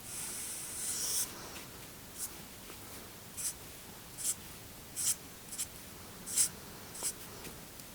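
A pen or pencil drawing a sad face on paper, with soft scratchy strokes. A longer stroke comes first, then a series of short, evenly spaced marks, close and quiet with no talking.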